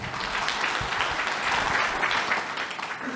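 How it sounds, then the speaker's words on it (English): An audience in an auditorium breaks into applause, a dense, steady wash of many hands clapping that carries on for a few seconds. "Can you please give him a round of applause?"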